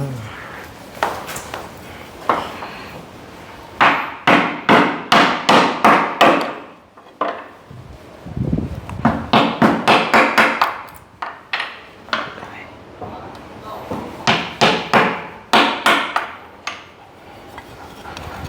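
Someone hammers wood while building, striking in quick bursts of several blows separated by short pauses. The ringing knocks are loud and close.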